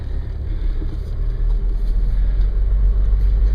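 Car interior while driving on a bitterly cold day, a loud steady low engine and road rumble heard from inside the cabin with no talk.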